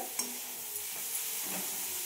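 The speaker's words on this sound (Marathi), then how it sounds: "आता छान अशी फोडणी झालेली आहे" Vegetable tempering of wild chai-bar greens sizzling steadily in a pan, with soft stirring scrapes rising now and then over the constant hiss.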